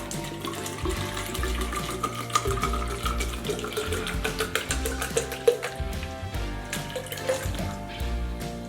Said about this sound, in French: Ça suffit de mettre 350 ml d'eau à l'intérieur.